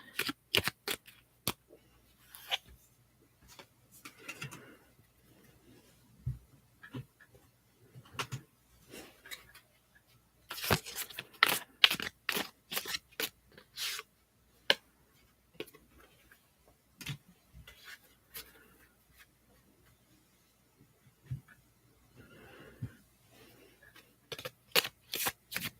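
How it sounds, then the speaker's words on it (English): Tarot cards shuffled close to the microphone in a quiet ASMR setting, heard as soft scattered snaps and riffles with gaps of near silence in between. "And then I'm going to pull these cards."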